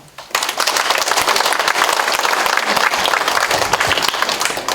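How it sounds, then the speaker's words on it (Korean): An audience at a Icheon city mayor's town meeting in Seolseong-myeon breaks into applause after a budget official's presentation, a loud, dense, steady burst of many hands clapping close by. "시정 운영 방향과 주요 사업 계획에 대한 명쾌한 설명을 해준 기획예산 담당관에게 큰 박수 부탁드립니다"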